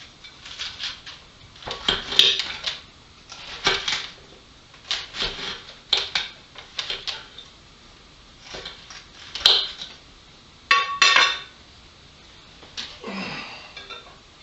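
A knife chopping through a cabbage on a cutting board in a home kitchen, uneven clusters of crisp cuts and scraping strokes with short pauses between, close and fairly quiet.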